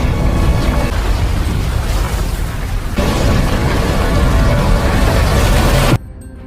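A film avalanche, a massive continuous low rumbling roar of sliding snow, loud and unbroken for about six seconds before cutting off suddenly into near quiet.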